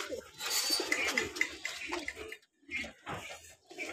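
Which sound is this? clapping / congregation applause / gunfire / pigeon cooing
pigeon cooing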